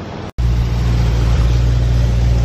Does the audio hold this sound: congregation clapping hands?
no